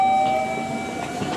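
At a JR platform in Japan, near Karatsu, a small local train sounds close by. Steady tonal whines and a rumbling mechanical hum fade slightly over a second and a half, with no talk.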